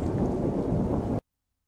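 Steady rain with rolling thunder in a horror video game, a dense, loud wash of low rumble and hiss that fills the scene alone, then cuts off abruptly into silence.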